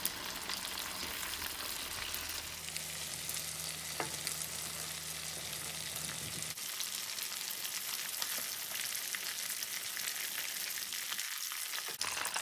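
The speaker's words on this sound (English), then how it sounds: "chicken been frying away for a good 6 to 8 minutes" Chicken pieces frying in oil in a cast iron pan, a steady dense sizzle running throughout with a low hum in the first half, close and continuous.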